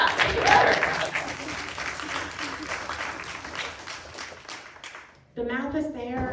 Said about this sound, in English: I saw some applause, let's get that